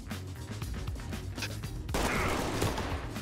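Gunfire in the video game Ready or Not: a dense burst of rapid shots, swelling into a louder, harsher volley partway through, with no talk.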